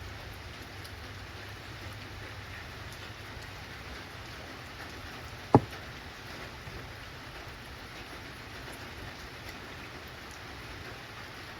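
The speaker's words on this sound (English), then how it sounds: "Yep, rain's starting to come down and getting this done just in time so I can head back to the house." Steady light rain falls outdoors at a workshop in early February, a soft continuous patter throughout with one sharp close click partway through and no voices.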